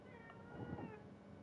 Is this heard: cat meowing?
yes